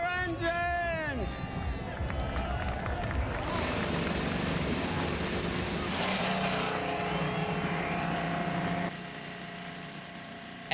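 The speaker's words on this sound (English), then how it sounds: "Engines fired for the 50th Grand Prix of Long Beach." IndyCar race car engines fire up at the 50th Grand Prix of Long Beach street circuit, a dense roar of many engines revving together, loud and continuous with crowd ambience and announcers talking over it.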